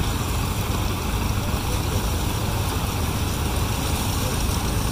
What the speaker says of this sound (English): I think that's a Case tractor. Maybe it's an F12 or F20. Yeah, it's a Farmall.